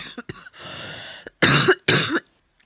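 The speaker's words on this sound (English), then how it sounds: "I've got a horrible cough, chesty cough" Two heavy, chesty coughs from a woman lying in bed in the evening, close and loud, following some quieter throat sounds and breathing.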